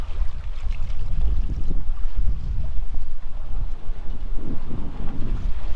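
Single-handed sailboat running at about 4.5 knots off Fyn, Denmark, with strong wind buffeting the microphone and water rushing past the hull in an uneven, gusting roar; no talking.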